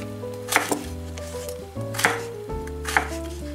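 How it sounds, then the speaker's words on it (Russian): A knife chops young, unpeeled zucchini into cubes on a board, three distinct sharp cuts spaced about a second apart over a steady low hum, with no speech. "Теперь режу кабачок, тоже таким же образом,"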